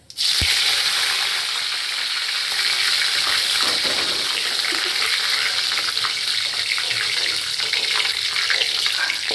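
Curry leaves and cumin seeds sizzle in hot oil in a pan, a loud, steady, crackling hiss that runs continuously and close up.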